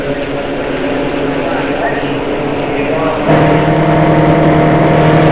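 Formula Vee race cars from a 1987 race in Adelaide sweep toward the finish line, a loud broad engine roar that swells and deepens partway through, with excited commentary running over it.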